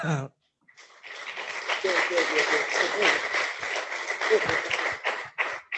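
An audience at a coding camp for African girls and women bursts into sustained clapping after a brief pause, with voices mixed into the steady, fairly loud applause.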